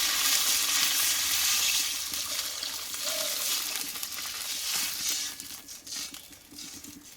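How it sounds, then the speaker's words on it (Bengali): Frying potatoes in a pan for a pea dal, a broad hissing sizzle that surges as water is poured in, then settles into a bubbling, crackling simmer with light stirring taps. "আমি এবার পরিমাণ মতো জলটাকে দিয়ে দেবো"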